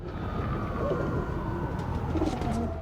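Pigeons gather close by with soft, repeated cooing over a constant outdoor background hum. The calls are fairly clear and come in a few short phrases.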